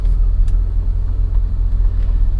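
A 1989 BMW 635i engine rumbles low and steady as the car pulls away in drive, heard from inside the cabin with a constant deep drone.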